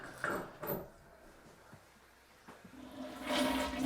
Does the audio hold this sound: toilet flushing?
yes